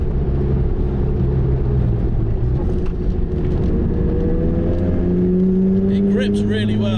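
A Mazda RX-7 on a race track on Nankang NS2R tyres, its engine droning steadily then climbing in pitch as it accelerates hard, heard from inside the car with someone talking over it.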